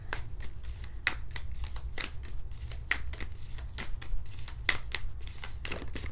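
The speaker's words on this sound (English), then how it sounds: "let's just give it a few more shuffles." New tarot cards being shuffled, a run of crisp riffling bursts repeating steadily at close range over a low steady background hum, with no talking.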